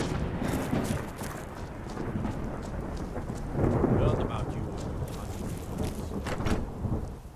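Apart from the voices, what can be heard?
thunderstorm and rain in video game Skyrim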